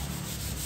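Sandpaper rubs a sanding sealer coat on teak wood, a steady, dense scratching that is close and continuous for the whole moment.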